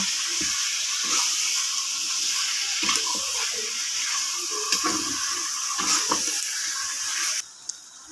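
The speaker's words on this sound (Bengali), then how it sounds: "গরু মাংস কষানোর পরে আমরা পানি দিয়ে দিব।" Water poured into a pot of browned beef curry, a steady rushing pour with bubbling sizzle and a few clanks of utensils nearby, ending abruptly near the close.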